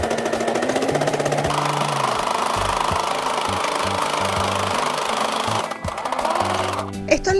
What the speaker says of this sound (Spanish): vamos a seguir cosiendo estas líneas paralelas tanto en horizontal como en